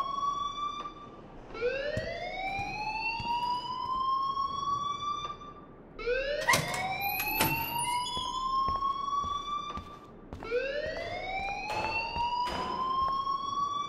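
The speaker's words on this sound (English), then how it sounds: "please turn off that alarm" A rising, wailing electronic alarm sounds in the Life is Strange video game, sweeping upward three times in repeated cycles with sharp clicks between, steady and fairly distant.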